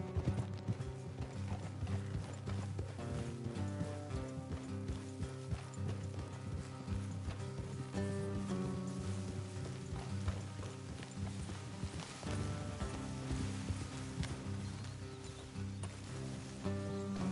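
Horse hooves clip-clopping at a steady trot in Red Dead Redemption 2, a rhythmic clatter running under a continuous bed of in-game music.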